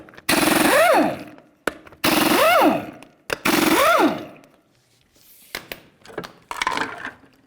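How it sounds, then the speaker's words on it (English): An impact wrench spins off 19mm lug nuts from the rear wheel of a 2002-2005 Ford Explorer, three loud rattling bursts, each rising and then falling in pitch, followed by lighter clinks and handling noises, close up. "you're going to continue on by removing all 5 of your 19mm lug nuts"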